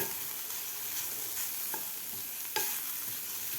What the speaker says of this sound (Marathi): हे गाजराचा किस मी तुपामध्ये परतून घेतलेला आहे